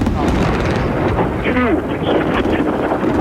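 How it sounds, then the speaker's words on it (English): Continuous roaring rumble of distant explosions over Baghdad's presidential compound, with wind buffeting the microphone, loud and sustained with no clear pauses. "Huge explosions."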